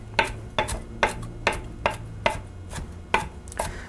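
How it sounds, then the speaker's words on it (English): A kitchen knife chops fresh basil leaves on a cutting board for chicken cacciatore sauce, giving about nine crisp, evenly spaced knocks that sound close and clear with no talking. "leaves, those I'm going to chop up just like I did the parsley, and that's going to go into the sauce"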